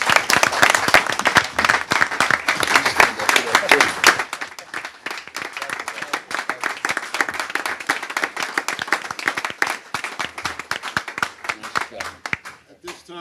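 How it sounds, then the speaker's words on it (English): A round of applause at a school board public meeting. Dense, loud clapping for the first few seconds thins into scattered hand claps that fade out, with some voices mixed in. "How about a nice round of applause for Ted Garlick and Michael Lawande?"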